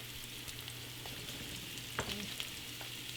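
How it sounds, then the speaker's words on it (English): Steady crackling sizzle of trumpet mushrooms frying in hot oil, with a few brief clinks and stirs, fairly quiet and close, no talking. "Throw your trumpets. Hear that sizzle? It means you're good."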